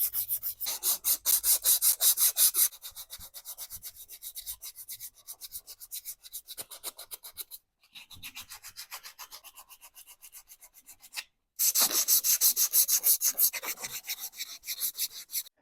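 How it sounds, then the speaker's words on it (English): Sandpaper is worked over a fork slider from a 1990 Harley-Davidson Sportster 883, giving steady, rhythmic back-and-forth rasping strokes close up. The strokes are loud in two long passages, softer in between, with brief pauses and no speech. "you run the sandpaper like this, you will get lines"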